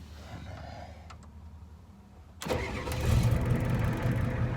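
After a few faint clicks, a 7.3 IDI diesel truck engine, unstarted all winter, cold-cranks and roars to life, then runs at a rough, loud idle nearby.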